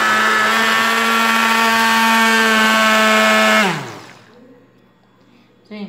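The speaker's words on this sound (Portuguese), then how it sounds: "eu bati em torno de 7 minutos com o mixer" A hand mixer beats a homemade bar soap mixture with a loud, steady whine that runs for a few seconds, then winds down and stops, leaving quiet room noise and a small knock at the end.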